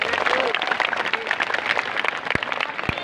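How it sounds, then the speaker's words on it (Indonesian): Audience applause at a Bulan Bahasa school event at a junior high school in Tarumajaya, a dense steady clapping crowd filling the whole stretch at fairly high level, with voices mixed in. "Oke, tepuk tangan yang meriah."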